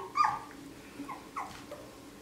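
A young puppy makes a few short, soft growling whimpers close by, in brief separate bursts against a quiet background.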